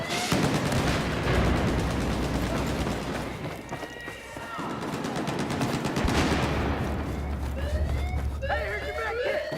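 Shotgun blasts and other gunfire in a Battlefield 4 match ring out over a dense, constant din of battle noise, with loud low rumbling and overlapping shots, while a voice talks briefly at points.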